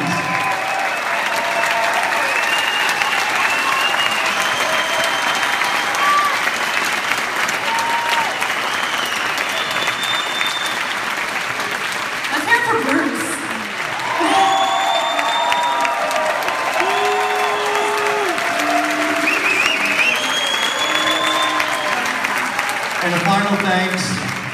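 Loud, sustained audience applause with some cheering fills a theater in honor of the kid musicians, steady throughout with a brief swell midway.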